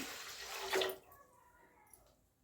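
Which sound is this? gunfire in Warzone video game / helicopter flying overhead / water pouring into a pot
water pouring into a pot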